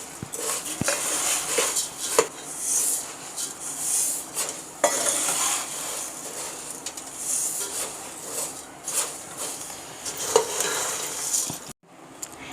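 Roasted flattened rice (poha) is stirred in a pan for chivda: a metal spatula scrapes and clinks against the pan in an irregular rhythm over a light sizzle, close and fairly loud.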